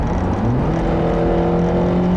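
Steady, close engine drone from a 2013 Acura TSX 2.4-liter four-cylinder with Honda VTEC, heard alone as a continuous hum while driving.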